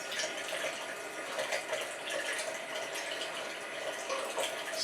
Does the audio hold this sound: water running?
yes